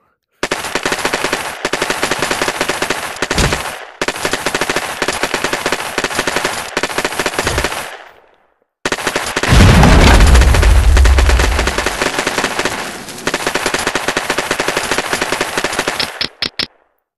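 A Kalashnikov rifle fires in the VR game XR Ultra Physics Sandbox 2 as long, very loud, close automatic bursts. A couple of short gaps split the bursts, and a heavy low boom sounds partway through.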